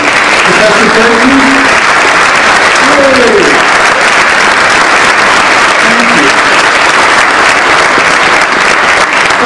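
Loud, sustained applause from a university audience honoring long-serving faculty and friends at a winter State of the University event, steady broadband clapping with a few faint voices rising briefly above it.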